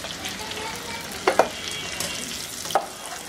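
Slices of bitter gourd and potato fry in hot oil in a pan, giving a soft, steady sizzle close by, broken by a few sharp clinks of a utensil.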